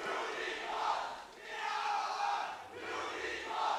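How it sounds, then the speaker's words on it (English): Esports fans cheer and roar at a League of Legends EU LCS regional qualifier match between Unicorns of Love and H2K, a loud, sustained crowd noise swelling and dipping in waves with no talk over it. "And while the crowd may be going wild"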